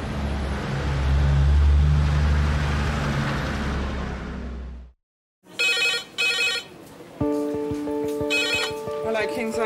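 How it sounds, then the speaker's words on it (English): Red emergency phone in a hospital A&E department, a direct line from the ambulance service, rings in loud repeated bursts after a stretch of heavy rumbling noise, with busy background sound continuing beneath the rings. "A direct line from the ambulance service to the emergency department. When it rings, it signals the imminent arrival of a seriously ill patient."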